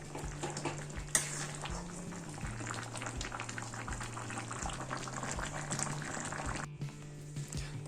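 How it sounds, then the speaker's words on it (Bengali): Poppy seed paste (posto) boils in a pot on a kitchen stove, a steady bubbling hiss that carries through the clip with a low hum beneath it and a brief rise partway through. "এই পোস্তটার মধ্যে দিয়ে একটু মতন ফুটে উঠলে ব্যাস নামিয়ে দেবো"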